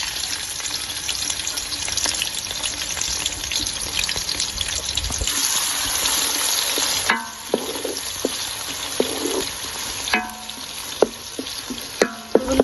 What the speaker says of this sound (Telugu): ఇదిగోండి నూనె వేడైందండి. ఇప్పుడు మనం కట్ చేసి పెట్టుకున్న ఉల్లిపాయలు వేసుకోవాలి.